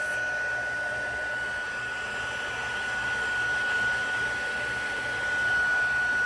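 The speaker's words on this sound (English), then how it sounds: "The heat tool, 2 settings, has a low and a high." A two-setting craft heat tool blows hot air while drying a stamped card. It gives a steady, close whoosh of hot air with a thin high whine, humming evenly throughout.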